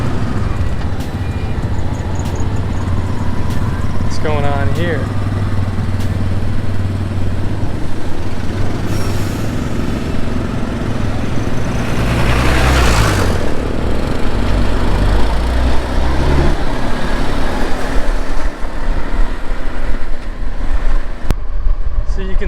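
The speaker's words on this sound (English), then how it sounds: "Traffic jam." Busy traffic jam of cars and motorbikes in Kampot, Cambodia, with a steady close engine rumble and drone, a horn-like tone and passing vehicles swelling midway, while a voice speaks briefly near the start.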